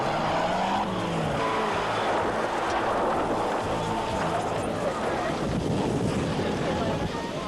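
A Honda ATC 200cc four-stroke all-terrain vehicle races in a rally, its engine roaring steadily through heavy wind noise, with a voice speaking over it.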